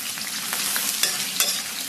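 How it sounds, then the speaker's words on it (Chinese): Pork belly stir-fries in a wok to render its fat, with a loud, dense, continuous sizzle and a few sharper crackles and spatula strokes close by. "锅里边来点五花，简单煸炒一下，炒出油脂"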